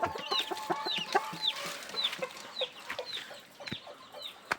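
A native chicken on a small farm clucks repeatedly in short, close, chirpy calls, with scattered faint farmyard noises in between.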